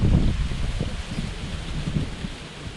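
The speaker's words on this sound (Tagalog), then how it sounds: "Tapos ngayon pa naman na chamba na napakalakas ng hangin." Strong wind roars and buffets the microphone in a constant low rumble, gusting throughout with no voices.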